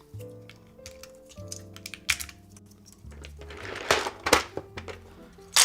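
Keystrokes on a custom Hall effect mechanical keyboard clack in quick irregular bursts, fairly close and crisp, over a soft background of music tones.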